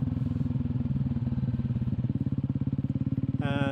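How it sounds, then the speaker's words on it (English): A CCM Spitfire cafe racer with its stock factory exhaust burbles on deceleration, a steady throbbing pulse close by that ends in a brief higher rasp. "It does make a beautiful burble on deceleration."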